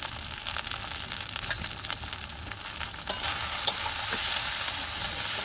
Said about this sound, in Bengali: দিয়ে দেবো ধনে জিরে গুঁড়ো 2 চামচ।